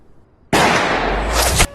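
A battlefield artillery explosion erupts suddenly out of near silence as a loud, close blast, its roar holding for about a second before cutting off.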